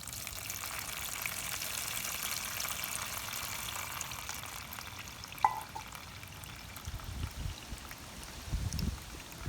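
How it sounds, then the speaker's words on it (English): Water poured onto wood shavings bedding makes a soft, continuous trickling hiss throughout, with a few louder splashy bursts near the end. "here I've got my same water, and I'm just going to pour it on here and let's see what happens"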